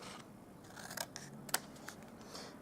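Scissors cut cardstock box flaps into mitered corners, a few short, crisp snips over a quiet room with no talking.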